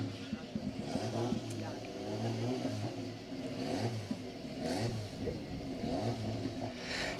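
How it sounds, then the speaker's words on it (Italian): A Lotus Exige race car engine idles and blips at a hillclimb start line, with its revs rising and falling in uneven pulses while a crowd murmurs and voices talk nearby. "dopo qualche incertezza nella messa in moto della sua bella Lotus Exige, è pronto a scattare con il numero 204"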